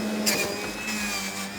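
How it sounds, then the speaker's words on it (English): A Sage 3X Bluicer juicer runs steadily, its motor whirring with a constant tonal hum and broadband whine that holds evenly from start to finish, close and fairly loud, with no talking. "So that's the juicing part."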